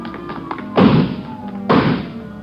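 Garage doors are smashed through as a radio drama sound effect: two heavy, booming crashes about a second apart, each with a rattling decay, over a faint background hum.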